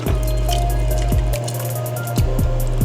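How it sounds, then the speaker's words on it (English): Water poured into an Instant Pot of sautéed vegetables and meat for red beans, a steady close splashing trickle with a low hum running underneath and a few drips near the end. "I added some water."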